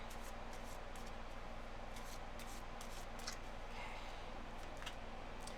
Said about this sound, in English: Let me do a little more shuffling.